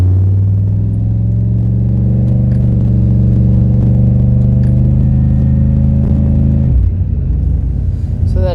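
A car engine in manual first gear holds a loud steady drone, then drops in pitch around the shift near the seventh second before settling again, close and constant with no talk.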